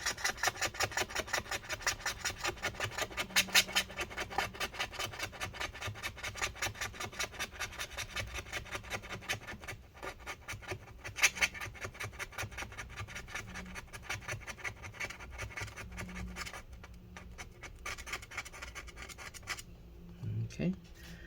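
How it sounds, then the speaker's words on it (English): A blade scrapes adhesive off the battery of a 2012 15-inch Retina MacBook Pro A1398 with rapid, rhythmic rasping strokes close up, easing briefly now and then before resuming. "So I'm gonna just go ahead and scrape all this adhesive off."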